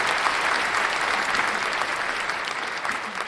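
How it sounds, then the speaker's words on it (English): Crowd cheering and applause sound effect, a steady dense wash of clapping and cheers at full volume throughout, with no talk over it. "Crowd goes wild."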